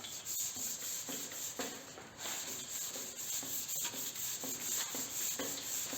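Sandpaper is worked by hand over a first coat of high build primer on a steel car panel, a steady, close, continuous rasping with rhythmic back-and-forth strokes and no pauses.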